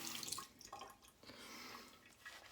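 Water runs from a bathroom tap during a shave, a faint, steady splashing wash with small drips near the start, heard alone without talk.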